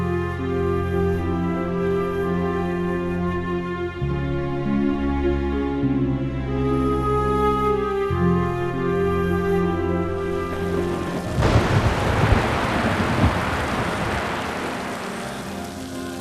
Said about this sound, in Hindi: मौसम बहुत तूफानी हो रहा है।